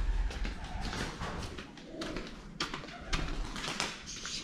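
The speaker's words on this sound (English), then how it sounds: "It's a huge amount of birds." Many birds, likely pigeons or doves, cooing together inside a building, a dense continuous murmur with occasional flutters and scuffs, fairly distant and reverberant.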